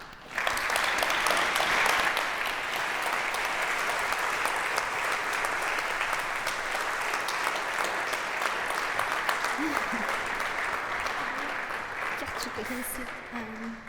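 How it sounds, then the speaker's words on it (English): Audience applause fills a hall at an opening ceremony, a dense, steady clapping that starts at once, stays loud and even throughout, and thins only slightly near the end. "Let us welcome them with a huge round of applause"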